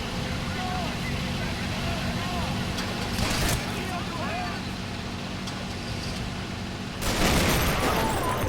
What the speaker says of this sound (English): So many explosions here